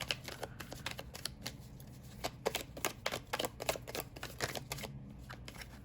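Tarot cards are shuffled and drawn by hand, producing quick crisp riffling flicks and soft slaps in an uneven rhythm, close and fairly quiet.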